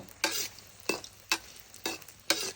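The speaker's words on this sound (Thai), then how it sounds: "ไข่เจียวเตาถ่านนะครับ" Omelette frying on a charcoal stove, with five quick bursts of crackling sizzle and scraping at roughly even intervals over a low background hiss, close and with no talking.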